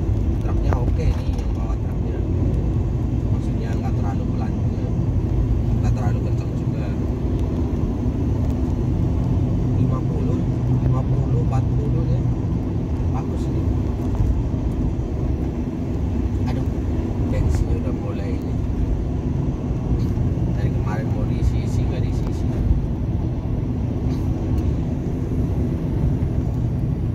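Steady road rumble from a car driving behind a truck on a highway trip toward Jakarta, a continuous low engine and tire drone with people talking throughout.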